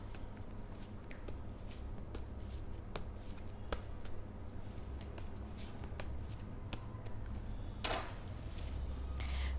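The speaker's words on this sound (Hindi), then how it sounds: "टॉरस के लिए मैं कार्ड शफल कर रही हूँ।" Tarot cards being shuffled by hand at a steady, quiet pace, with soft papery riffles and light taps repeating close by over a low constant hum, a brisker flurry near the end, no talking.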